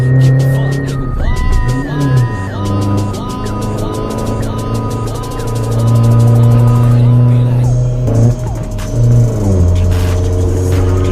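A turbocharged Isuzu All-New D-Max 1.9 pickup drives hard around Chang racetrack, its engine droning loudly with rising and falling pitch through gear changes and corners, while someone talks over it.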